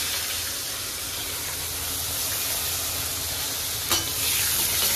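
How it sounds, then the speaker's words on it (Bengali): Eggplant fries in a pan with a steady, close sizzle and bubbling hiss, and a short stirring clatter near the end; no one speaks. "খালি বেগুনটা ভালো করে ভাজবো, বাকি সবজি সব একসঙ্গে ভাজবো।"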